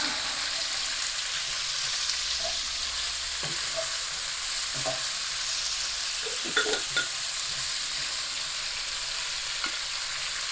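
Leeks and onions sizzle steadily in a soup pot, with occasional soft scrapes and knocks of a spoon stirring them, continuous and fairly close.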